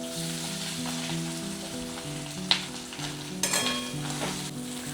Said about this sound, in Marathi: तेलामध्येच आलं टाकणार आहे आणि नंतर आपला भाजलेला कांदा.